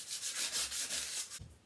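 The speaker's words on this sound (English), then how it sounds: "I am going to take my 400 sandpaper, and I'm going to give this surface a nice little sanding" A wooden frame surface is hand-sanded with 400-grit sandpaper: close, rhythmic back-and-forth rubbing strokes, about six passes in quick succession, with no voices.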